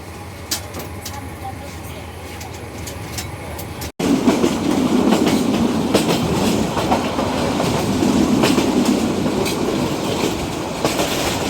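Tista Express passenger train on the Dewanganj to Dhaka line, heard from inside as a quieter rumble that jumps to a loud, steady roar of wheels and clattering rails, with faint voices underneath.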